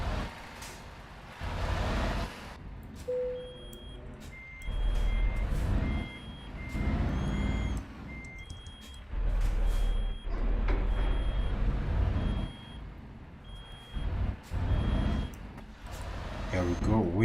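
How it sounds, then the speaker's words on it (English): Reversing beeps from a truck backing a dry bulk trailer into a parking spot in Euro Truck Simulator 2, a steady repeating beep over low engine rumble, with someone talking throughout. "I'm here parking my truck and trailer so that we can end."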